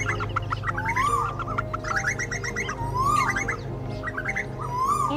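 Recorded lure calls for bird trapping, Asian koel and purple swamphen, with repeated loud, rising whistled notes over a dense chorus of clucking, chattering calls, steady throughout with no voices.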